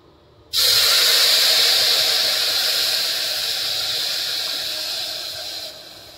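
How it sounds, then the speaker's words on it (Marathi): Hot water poured into a hot pan of roasted lapsi sets off a sudden, loud, close steamy hiss that holds steady for several seconds and then eases slightly before cutting off. "आता याच्यात टाकूया आपण गरम पाणी।"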